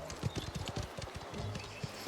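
Horse hooves clip-clopping on a street in Mafia: The Old Country, a quick, uneven run of hoof strikes at moderate distance, fairly soft and continuous.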